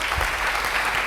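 A church congregation applauding loudly, dense steady clapping from many hands filling the whole moment, close and unbroken.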